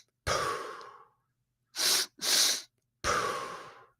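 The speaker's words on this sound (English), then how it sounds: "This type of quick recovery is a double inhale and a slow exhale through the mouth." A breathwork double inhale through the nose and slow exhale through the mouth: a long sighing exhale, then two quick sniffs in close succession, then another long, fading exhale, close and clear with no talking.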